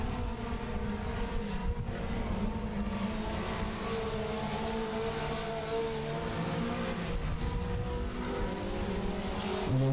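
At Monarch Motor Speedway, a pack of race cars battles around the track, their engines a continuous, fairly distant buzzing roar that swells and fades slightly throughout.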